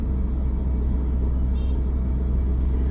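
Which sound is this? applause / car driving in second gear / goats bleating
car driving in second gear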